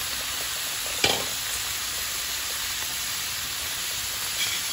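A large batch of onions hits the pan for pork steak and sets off a loud, continuous frying sizzle. One sharp clack from a utensil comes early, then the hiss carries on evenly.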